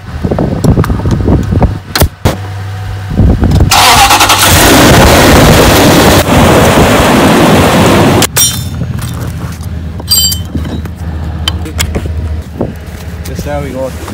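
A Toyota Tundra truck in snow starts up and revs hard, with a loud, close engine roar that swells and then drops back to a rough idle. Voices talk over it at times.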